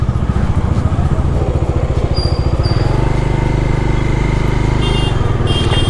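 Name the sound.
new KTM motorcycle passing on the road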